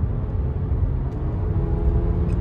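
Car accelerating on a road during a test drive after a dealer auction, a steady low engine and road rumble that holds even and close throughout, with no talk.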